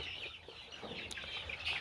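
Young chickens on grower feed cluck and chirp faintly in a brief stretch, soft overlapping calls over light background noise.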